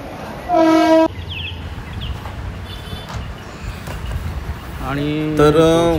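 A train horn blares twice, near and loud, around a continuous rumble of a train rolling past, with faint talk in between.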